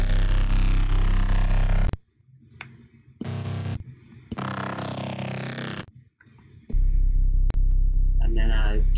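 A stock Ableton synth bass plays thick, buzzing sustained notes in short phrases separated by gaps, with clicks and brief higher synth tones between them.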